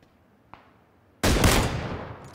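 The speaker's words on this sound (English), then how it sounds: "The frick is shooting at me." Sudden burst of loud gunfire from PlayerUnknown's Battlegrounds erupts after a quiet stretch with a faint earlier click, sustained rapid shots close by and ringing out to the end.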